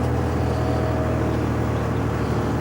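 A 1981 Volvo F12 truck's diesel engine drones loud and steady from the cab while changing down through the gears, a continuous deep rumble with no pauses.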